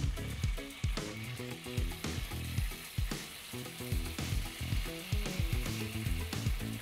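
Soy sauce and oyster sauce hit hot oil, a constant frying sizzle under repeated rhythmic scraping and tossing strokes, close and moderately quiet, without speech.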